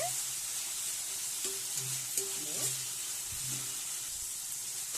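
Ridge gourd sizzles in a pan with cumin while a spoon scrapes and stirs it. The frying is a steady hiss, broken by occasional louder scraping strokes, heard up close with no voices.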